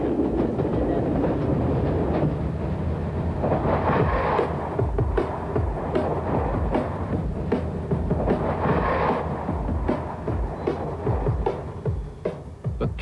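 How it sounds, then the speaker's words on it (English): An old diesel train rattles flat out across Wales, its carriages clattering and banging in a loud, continuous, close rhythm with rising and falling roar. "Are you any happier with this rattly old train?"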